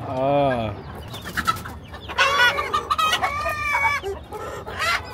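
Chickens cluck and squawk in a busy, overlapping chorus, close and fairly loud, with a rooster-like crow near the start.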